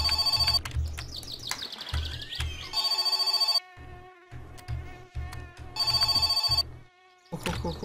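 Telephone ringing in the video game My Summer Car, a repeated electronic ring sounding in regular bursts with short gaps, loud and close, over a low engine-like rumble and buzzing insect sounds.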